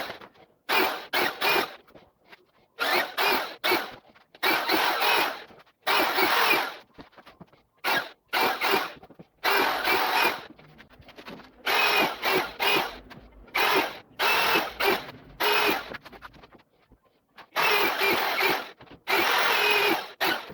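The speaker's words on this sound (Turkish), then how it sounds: "48 tane deliğini aynı bu şekilde açarak e, delme işlemini de tamamlıyorum" A power drill whirs in repeated short bursts, boring holes in rubber car-tire pieces, each a second or two long, separated by brief pauses, close and fairly loud.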